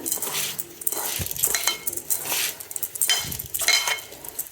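Washed rice being mixed with ghee by hand or spoon in a metal bowl for basanti pulao makes irregular scraping, clinking strokes in rhythmic bursts, close and fairly loud, with no talk.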